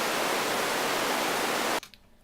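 A loud, steady wash of synthesized pink noise, softer and fuller than a bright hiss, like rushing water, then cuts off abruptly into near silence.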